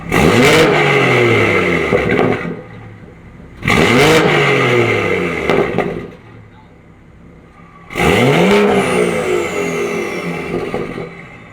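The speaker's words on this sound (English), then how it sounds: "You can hear the intake so crazy, guys, when it's in comfort." A BMW engine revs hard three times in comfort mode, with a loud intake roar and exhaust note that climbs and falls in each burst. The bursts are separated by short idle gaps.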